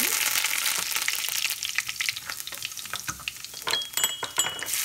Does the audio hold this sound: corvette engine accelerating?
no